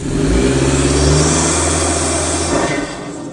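Honda Civic engine revving hard and steadily for about two and a half seconds, loud and close, before easing off; no talking over it.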